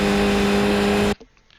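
A race car engine roaring at full throttle in the iRacing sim on the Skip Barber car at Mosport, a loud steady high-revving drone that cuts off abruptly after about a second.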